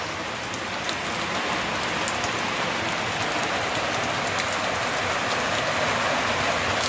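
Steady rain falls on a village in September, a dense, even hiss of drops on surfaces that holds constant and close throughout with no voices.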